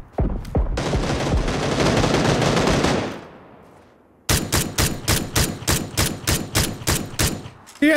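SKS semi-automatic rifle gunfire in PUBG: a dense, loud burst of shots fades out, then after a short pause about a dozen sharp, close shots ring out at a steady, even pace, with no talking.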